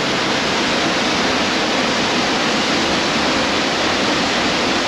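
A waterfall in Oregon roars as a loud, dense, steady wash of falling water, continuous and close with no other sounds.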